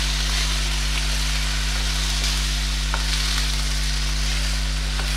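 Taro root (arbi) frying in oil in a pan gives a loud, continuous sizzle and crackle close up, with a steady low hum underneath and no speech.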